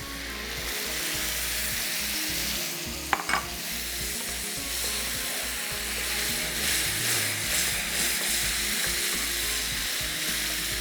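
Tomato puree sizzles and fries with garlic in a pan for an achaari green handi, a steady loud hiss throughout with a brief metallic clink of stirring near the middle, no voices.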